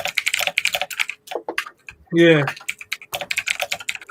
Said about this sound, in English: Someone's aggressively typing.